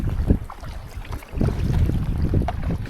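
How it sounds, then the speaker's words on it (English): Strong, ferocious wind gusts buffet the microphone on an inflatable kayak on a river near York, rough blustery roaring in uneven bursts that strengthen midway, with no talking. "There are some ferocious gusts and I'm getting shoved along quite nicely"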